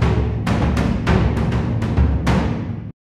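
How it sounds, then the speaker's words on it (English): Persian battle drums from the EastWest Stormdrum 2 sample library, struck in a series of booming, heavy hits with a loose rhythm, loud and resonant, each blow ringing into the next before a sudden cutoff. "And then some Persian battle drums."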